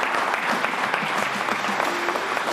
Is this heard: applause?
yes